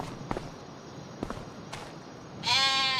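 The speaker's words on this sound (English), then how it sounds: "Go to the sheep barn." Sheep bleat at the sheep barn in Farming Simulator 25, with several short bleats and soft footsteps early on, then a louder, sustained bleat near the end, all fairly close.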